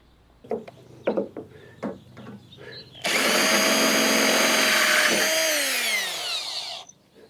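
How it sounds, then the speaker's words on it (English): Several short knocks and taps, then a power drill whirs loudly and steadily for a few seconds drilling holes in a cargo trailer roof for solar panels, before winding down. "I had to carefully drill holes exactly where I wanted them."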